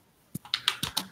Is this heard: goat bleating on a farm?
no